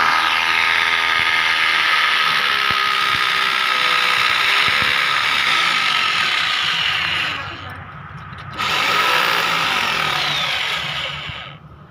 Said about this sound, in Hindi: अब एमसीबी बॉक्स को मार्किंग करके ड्रिल्स करके स्क्रू लगाएंगे